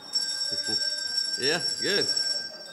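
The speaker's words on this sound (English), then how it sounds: "Come on, ring those bells." Handbells rung by children in a church service, a steady bright ringing that holds throughout with close voices speaking briefly over it.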